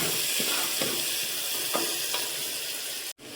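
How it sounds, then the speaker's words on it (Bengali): Steady loud sizzling of onions frying in hot oil in a pot, with a few soft scraping stirs, ending in a sudden brief dropout. "এই পেঁয়াজগুলো মোটামুটি আমার ভাজা হয়ে গেছে"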